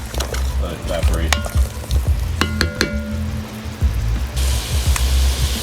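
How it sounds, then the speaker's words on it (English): Beef ribs in Marsala braising liquid sizzle and bubble in a pan, close and steady, with scraping stirs and occasional clinks of a utensil against the pot. "Stir this all up. And we'll let that keep cooking until some of the liquid reduces."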